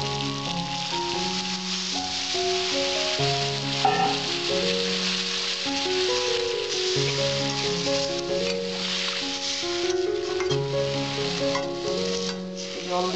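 Water is poured into frying cauliflower and potatoes for a Bengali dalna, and a dense, steady sizzle fills the pan, close and loud, with background music underneath.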